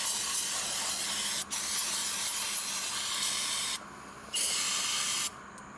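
Aerosol carb cleaner sprays in long steady hissing bursts near a 1976 Ford F-600 truck, with a brief pause early on and two short breaks later, close and fairly loud.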